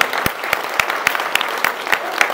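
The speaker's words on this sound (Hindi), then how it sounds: "अपने लिए तालियां बजाएं पहले," Hall audience applauding at a speech, a quick steady run of sharp claps with a faint voice underneath.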